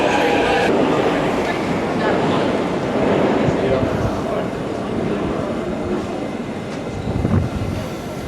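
A Kyiv metro train during rush hour, with a steady loud rumble and rattle of the carriage throughout, crowd noise and voices talking over it.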